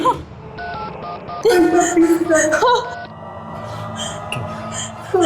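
Electronic telephone dialing tones beep in a short series, with a distressed voice whimpering and talking over them.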